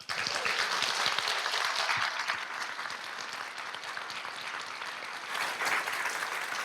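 An audience applauds storyteller Dolores Hydock at a Fall 2024 adult brown bag event sponsored by First Bank of Alabama. The clapping is steady and sustained from a full room, dipping slightly midway and swelling again near the end.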